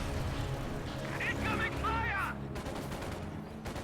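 Sharp crack of a Panzerschreck rocket striking an M20 armored car in a competitive WWII strategy game, followed by a burst of clattering impact and debris noise over a low battle rumble, with a commentator's voice present.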